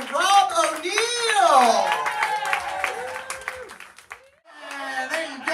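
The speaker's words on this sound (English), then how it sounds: "Give me one more round of applause to show me that you're still present." Applause from a comedy show audience, a crowd clapping under a loud voice that talks over it, the clapping continuing steadily before briefly dropping away and picking up again.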